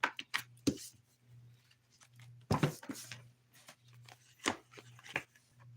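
Irregular soft riffling and snapping bursts, like cards being shuffled by hand, with quiet pauses between and a faint low hum throughout.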